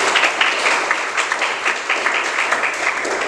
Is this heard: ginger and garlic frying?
no